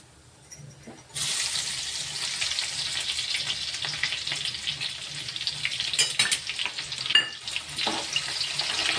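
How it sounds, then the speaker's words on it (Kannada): Garlic dropped into hot oil with mustard seeds and cumin, bursting into a strong close sizzle that holds steady, with a few crackles and light stirring scrapes and no speech. "ಬೆಳ್ಳುಳ್ಳಿ ಸ್ವಲ್ಪ ಫ್ರೈ ಆಗಲಿ ಎಣ್ಣೆಯಾಗ."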